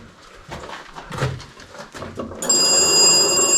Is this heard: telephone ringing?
yes